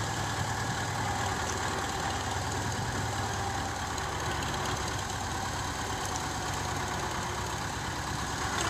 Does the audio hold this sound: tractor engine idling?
yes